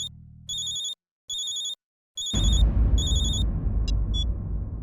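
Phone ringing in repeated electronic bursts with brief gaps, first over a low hum, then under a loud rumbling wash of background noise near the end.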